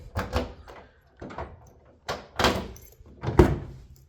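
Door lock being worked on the passenger door of a 1978 Chevrolet Monte Carlo G-body, giving a series of four or five solid mechanical clunks and thunks spaced about a second apart, close and fairly loud, with no talking.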